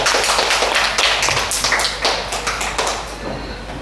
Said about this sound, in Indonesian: Beri tepuk tangan untuk peserta kita.